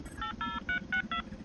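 Telephone dialing tones in the Grounded video game: a rapid run of five or six distinct touch-tone beeps in quick succession, fairly clear over a low background rumble.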